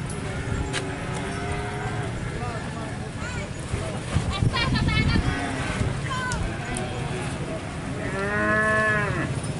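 Cattle moo repeatedly at a cattle judging contest in Tuban, with long drawn-out calls rising over crowd noise and people talking nearby.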